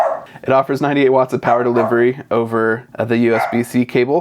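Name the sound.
dog barking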